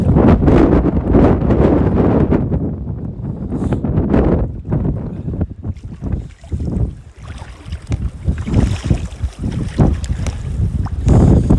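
Strong gusty wind buffets the microphone on a rocky shore while fishing for smelt with a cast net, a loud rumbling roar that swells and dips in uneven gusts, with water faintly behind.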